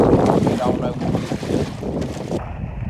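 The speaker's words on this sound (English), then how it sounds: "It's windy like this." Strong wind buffets the microphone on a lake while a boat trolls across open water, a loud steady roar with rushing gusts and some water noise, continuous throughout and easing slightly near the end.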